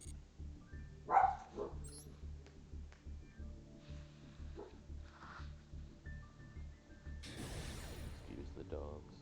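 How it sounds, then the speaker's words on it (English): Dogs bark in the background, with one louder yelp near the start and scattered fainter barks. People talk over them indoors with game sounds. "Excuse the dogs."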